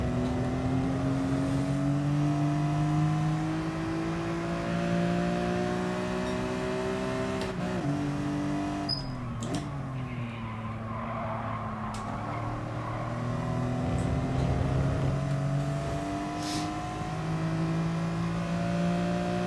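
A BMW M3 '03 race car engine on the Bathurst circuit in GT Sport, droning steadily with layered harmonics that rise and fall through gear changes, loud and continuous for the whole stretch with no talk.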